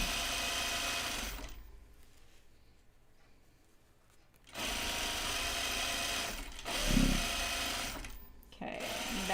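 A sewing machine stitches a seam through interfaced jeans fabric, whirring steadily in close bursts with a quiet pause between runs of stitching.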